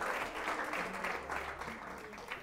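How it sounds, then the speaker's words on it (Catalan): An audience at a televised school quiz show claps together, a quiet but steady wash of applause for a few seconds with some voices faintly audible beneath it. "un aplaudiment, si us plau"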